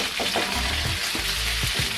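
Chili paste sizzles loudly in low-heat oil for vegetarian mapo tofu, a steady close crackle broken by a few soft scrapes and knocks of a spoon stirring it around the pan.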